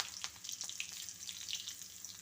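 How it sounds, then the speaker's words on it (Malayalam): Mustard seeds and chilli frying in hot oil for a dal curry tempering, a steady crackling sizzle with sharp pops scattered throughout, close and continuous, with no talk. "ചൂടായ എണ്ണയിലേക്ക് കടുക് പൊട്ടി തീരുമ്പോഴത്തേക്ക് മുളകിട്ട് കൊടുക്കാം,"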